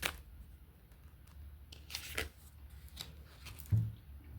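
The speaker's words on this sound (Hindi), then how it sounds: "I'm taking out a blessing card for this month for pile number 3." Tarot cards are shuffled and drawn by hand, giving soft papery riffles, slides and light taps close by at low volume, with a small thump near the end and no voices.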